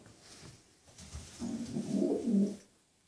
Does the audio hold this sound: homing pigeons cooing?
yes